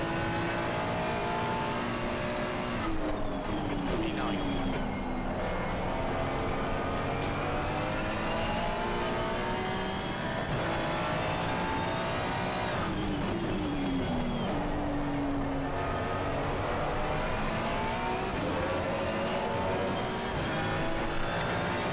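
A McLaren race car engine in a racing sim game drones steadily throughout, with pitch rising and falling through gear changes, while other cars' engines layer over it. The sound is continuous and loud, with no talk.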